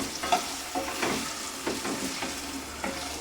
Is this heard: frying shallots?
yes